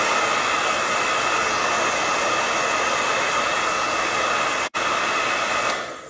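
A hair dryer blows steadily and loudly on wet paint coating a wooden sled, a constant whooshing roar with one brief cut-out before winding down at the end.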